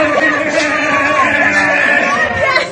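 A live comedy audience imitates gunfire together, many voices making rough, overlapping bang and rat-a-tat noises in a loud, chaotic babble.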